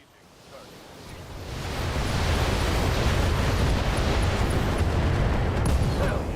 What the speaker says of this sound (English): Detonated his ammo.